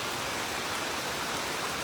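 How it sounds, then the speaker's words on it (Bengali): Heavy monsoon rain pours down in a dense, steady hiss on a rooftop, loud and unbroken with no voices. "আমাদের এখানে প্রচণ্ড বৃষ্টি হচ্ছে"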